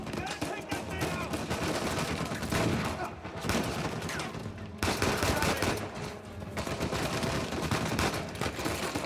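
Heavy turret gunfire in Uncharted 4 pounds away in dense, sustained bursts, a loud continuous barrage with brief gaps, with faint voices now and then beneath it.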